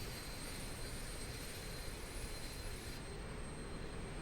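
The engine of a De Havilland DHC-6 Twin Otter in a flight simulator starts up with a steady turbine whine and a broad, loud roar, and a high tone drops away near the end.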